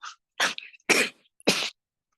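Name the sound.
cough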